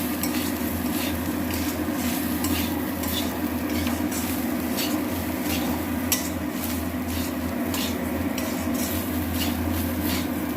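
Steady sizzling of cumin, coriander and chilli powder frying in a hot pan, with a continuous crackle and occasional scraping of a utensil against the pan.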